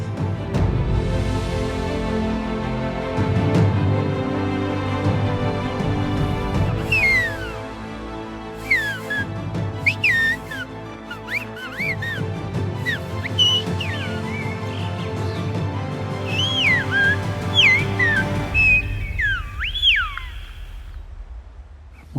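A Tenerife silbo whistle, the Canary Island whistled language, used to call a daughter. Several sliding, pitch-bending whistled phrases come from mid-distance, set against a steady low background hum and some clutter.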